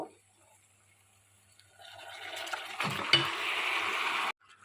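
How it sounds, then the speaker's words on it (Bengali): Marinated chicken tipped into a pan of onions fried over a medium flame. Near silence gives way to a rising hiss, with a thud and clatter as the meat goes in. A steady sizzle follows, then cuts off abruptly. "এখন আমি ম্যারিনেট করে রাখা চিকেনটা এর মধ্যে দিয়ে দেব।"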